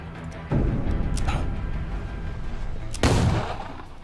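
Gunfire in the video game Empire of Sin: two heavy booming shots about two and a half seconds apart, each with a sharp crack and a long low rumble that lingers between them, with no talk over it.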